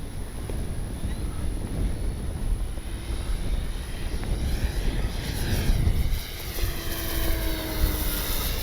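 An RC F4U Corsair warbird model airplane drones at full speed into the wind, its engine a steady distant buzz over broadband wind noise that swells slightly as it passes.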